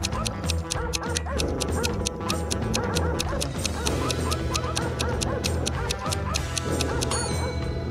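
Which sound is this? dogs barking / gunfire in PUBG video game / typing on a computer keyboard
dogs barking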